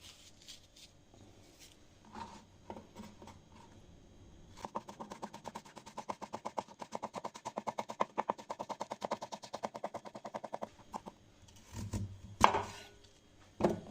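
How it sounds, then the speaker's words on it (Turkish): Knife chopping green peppers finely on a cutting board, a long run of quick, even, close-up cuts with a few scattered taps before it and a louder clatter near the end. "Şimdi sivri biberlerimizi şöyle biraz ince bir şekilde doğrayacağım."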